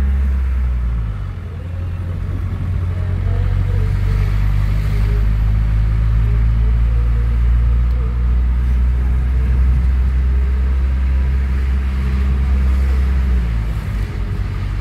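Inside a very old Mercedes car on the move, a loud, continuous low rumble of engine and road with rattling cabin noise and slight swells in revving, sustained without speech.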